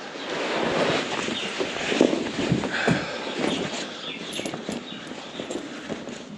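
A gelding shifts and stamps while a blanket is put on during a snowstorm, with scattered hoof thuds and rustling close by over wind noise.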